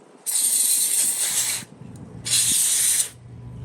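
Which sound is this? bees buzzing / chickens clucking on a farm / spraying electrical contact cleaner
spraying electrical contact cleaner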